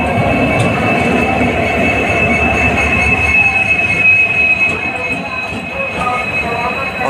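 Train hauled by a WDP 4D diesel locomotive from Ludhiana moving forward at Samastipur Junction for reversal: loud, close rumbling of rolling wagons with a sustained high wheel squeal running throughout and faint clicks.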